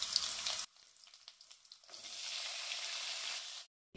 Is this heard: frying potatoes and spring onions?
yes